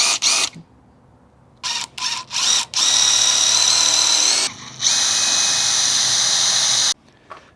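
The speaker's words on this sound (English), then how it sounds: "just drilled through and scored the frame so we know where our holes are going to go." A power drill whirs in short bursts while drilling through a drone frame, then runs in two long sustained stretches with a high whine, loud and close, with brief pauses between.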